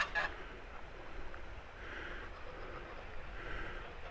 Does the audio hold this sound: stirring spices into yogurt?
no